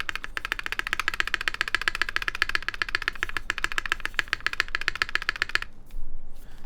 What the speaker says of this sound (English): If I'm obviously using my index finger to just press the spacebar, it's different because I'm probably pressing it even harder than I would press with my thumb.